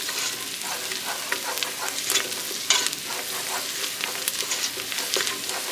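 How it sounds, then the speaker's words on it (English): Yellow onions and garlic cloves fry in butter and avocado oil and are stirred in the pan, giving a soft, close sizzle broken by scattered clicks and scrapes from the spoon, with no talking. "So again, I've got my garlic cloves in there. Let's give that a mix."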